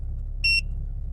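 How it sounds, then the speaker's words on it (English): The buzzer alarm of an OBD2 heads-up display digital dash sounds once, a short, sharp electronic beep over low background rumble. "So buzzer, that's the style of alarm."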